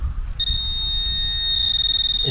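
A handheld metal detector, called a carrot, gives a steady high-pitched electronic tone that shifts near the end into quick, pulsing beeps, close and fairly loud against outdoor background noise.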